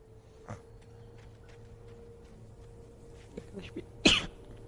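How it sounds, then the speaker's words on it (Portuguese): A single sharp, loud sneeze bursts out near the end over a low steady hum and faint background sounds in the Alan Wake video game. "Daquela espirrada agora."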